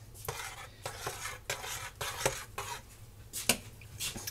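Spoon stirring soup made from leftover roast chicken and vegetables in a pot on a stove burner, with repeated rhythmic scraping and clinking strokes, close and clear, faint sizzling underneath.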